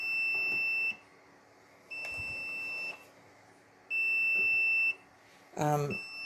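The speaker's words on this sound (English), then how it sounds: "My incubator is alarming because I've got the lid off." Egg incubator alarm sounding with the lid off, three evenly spaced high electronic beeps about a second long each, fairly loud and close, followed by a brief voice at the end.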